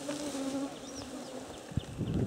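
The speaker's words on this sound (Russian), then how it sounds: "такой звук от этих, от комаров" Mosquitoes swarming outdoors on a long hiking trek make a faint, steady, high-pitched whine that hums continuously throughout, with no one talking.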